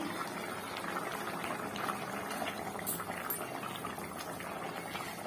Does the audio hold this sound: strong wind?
no